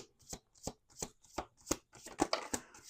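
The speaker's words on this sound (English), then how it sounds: "We're going to do 2 more shuffles." Tarot reading cards are shuffled close up in a quick rhythmic series of about nine crisp riffling bursts, evenly spaced and getting slightly denser toward the end, with no talking.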